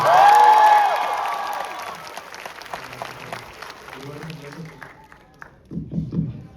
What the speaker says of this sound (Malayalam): ആവേശം ഫാൻസ് ഉണ്ടെങ്കിൽ ഒരു കൈയടി for റോഷൻ